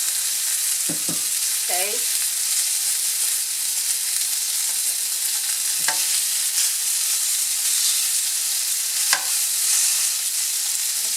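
Beef browning in a pan for a stew in creamy mushroom gravy, a steady close sizzle running throughout with a few scraping stirs and clinks, and a brief spoken word.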